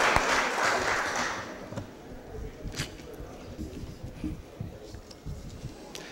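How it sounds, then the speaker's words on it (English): Applause at a Board of Aldermen meeting starts loud and full, then thins into scattered claps and fades within a few seconds, with room sounds after. "let's give him a round of applause"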